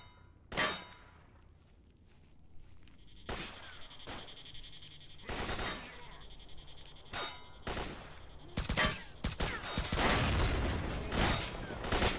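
Scattered bursts of gunfire in S.T.A.L.K.E.R. Shadow of Chernobyl, single shots at first and then denser rapid volleys toward the end, with metallic clangs between them.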